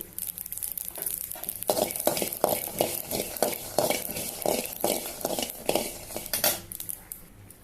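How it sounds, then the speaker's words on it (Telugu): Sesame seeds are added to a pan and stirred for a Telugu stir-fry of cowpea (alasanda) pods, giving steady rhythmic metal scraping and clinking with a soft sizzle underneath, close and fairly loud. "కొద్దిగా నువ్వులు వేస్తున్నాను"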